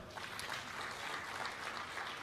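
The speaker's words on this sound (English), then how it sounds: "Ladies and gentlemen, another hand clap for our panel." Faint applause for a panel at a post-budget engagement forum, a soft continuous patter of many hands heard from a distance at low level.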